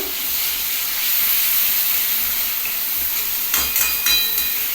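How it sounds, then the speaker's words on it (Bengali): Onions hiss and sizzle steadily in hot oil in a pan for a Bengali fish curry, a broad continuous frying noise with a brief burst of sharper crackling near the end. "প্রথমেই আমি পেঁয়াজটা দিয়ে দিচ্ছি মাছের যেহেতু ঝাল হবে পেঁয়াজটা আগে দিয়ে দিচ্ছি"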